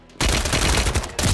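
Loud, close burst of automatic gunfire firing through a wall in Modern Warfare III, a continuous rapid rattle with a brief gap before resuming.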